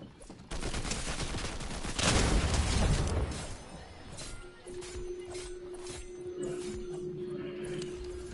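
Gunfire in a Fortnite match: a sharp, close volley of shots bursts out, followed by scattered quieter reports and ongoing game noise, with a fairly faint mix overall.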